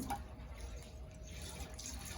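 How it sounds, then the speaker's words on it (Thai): Coconut milk pours steadily into a pot for a banana-in-coconut-milk dessert, giving a soft continuous liquid trickle and splash that is fairly quiet and close, with no talk over it. "เทน้ำกะทิลงใส่หม้อก่อนเลยค่ะ"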